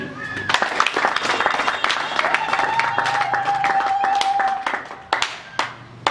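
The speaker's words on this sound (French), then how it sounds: "Alors je voudrais que vous puissiez l'applaudir." A crowd at an MLC party gathering in Mwene-Ditu applauds a donor, with dense, steady clapping that runs for several seconds and fades near the end, while voices rise over it.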